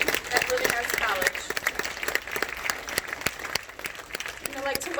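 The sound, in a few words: applause at graduation ceremony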